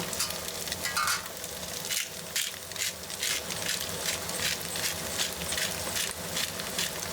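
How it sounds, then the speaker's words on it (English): Chopped green onions are stir-fried into egg fried rice in a hot pan, with a dense, close sizzle and repeated scraping strokes of the spatula running steadily throughout. "Next, adding all the chopped green onions and give everything a quick stir."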